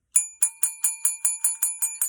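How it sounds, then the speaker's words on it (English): A small bell rung repeatedly by a toy mouse puppet at a children's sing-along, giving about ten bright, evenly spaced metallic dings in quick succession, close and clear with no talking. "I think he had a very good time ringing the bell."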